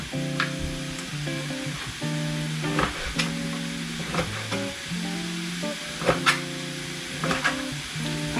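Sliced chorizo fries in a pan with garlic, giving a steady close sizzle broken by sharp clinks and scrapes of stirring, with tonal music playing underneath.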